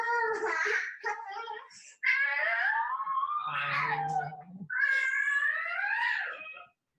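A pet cat meows in several long, drawn-out, wavering calls, some rising into yowls, close to the microphone with short pauses between them.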